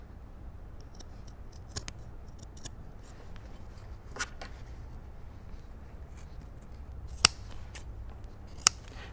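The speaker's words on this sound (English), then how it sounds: "Any little bits of Shapewell that are sticking up, you can trim those off." Scissors snipping off stray bits of Shapewell stiffening fabric along the top edge of a panel bustier, sparse short cuts spread out, with two crisp louder snips near the end, close and quiet.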